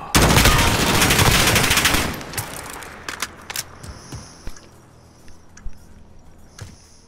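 Gunfire in a Modern Warfare match: a dense, loud automatic burst opens, then gives way to scattered single shots and light impacts amid quieter game ambience.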